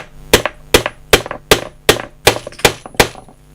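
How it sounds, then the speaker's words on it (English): A hammer drives a snap-off Eazi sink nail into timber with eight sharp, evenly spaced blows, each a loud, close crack that rings briefly and decays. "with me hitting this now with the hammerhead, I can only drive it as far as the timber itself"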